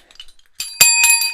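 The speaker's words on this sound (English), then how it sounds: "I'm not even ringing my bell." A bicycle-style bell gives two bright metallic rings in quick succession, the chime lingering after each strike, with faint small knocks just before.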